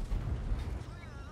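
A tank cannon fires in World of Tanks, a deep, booming rumble that rolls out and fades over about a second. Faint voices or game sounds sit underneath.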